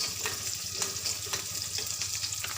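Small onions, or shallots, frying steadily in a pan, a close, continuous crackling sizzle with light popping bursts throughout and no talking.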